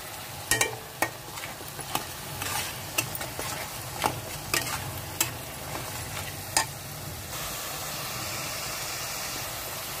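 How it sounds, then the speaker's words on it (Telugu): Ginger-garlic and onion masala paste frying in a pan with turmeric: a quiet, continuous sizzle and hiss, broken by a string of soft scraping stirs at irregular intervals. "వేగిందండి ఉల్లిపాయ మసాలా పేస్ట్."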